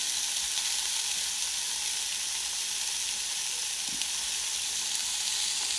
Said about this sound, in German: Und jetzt brutzelt das schön.